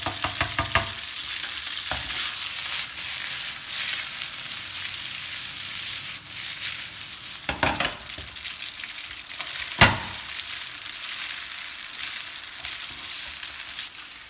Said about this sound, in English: caramelized onions, and we're going to stir it for about a minute and a half.